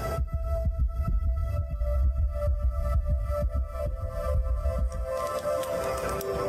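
Fast heartbeat, a rapid run of deep regular thumps with a faint hum beneath, close and steady, fading toward the end.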